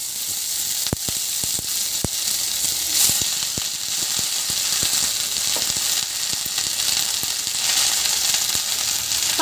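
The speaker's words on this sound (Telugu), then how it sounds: "పచ్చిదనం పోయేంత వరకు వేపుకోవాలండి" Moringa (drumstick) leaves frying in oil in a pan, a steady close sizzle and hiss throughout with scattered sharp crackles and pops, no voices.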